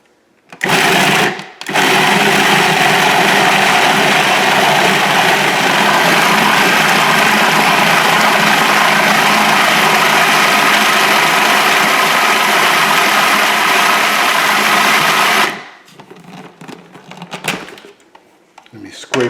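A food processor blends spinach dip ingredients in a long, loud, steady whirring run of about thirteen seconds, then winds down into lighter clatter.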